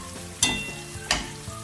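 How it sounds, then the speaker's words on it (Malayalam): Crushed ginger and garlic sauté in hot oil in a pan for butter chicken, giving a continuous close sizzle. Two louder bursts of frying come as the mixture is stirred, with no voices over it. "ഇഞ്ചി വെളുത്തുള്ളിയും കൂടെ ചതച്ചത് ഒരു 2 സ്പൂണ്, നന്നായിട്ട് അതിൻ്റെ അകത്തുനിന്ന് വഴറ്റിയെടുക്കുക"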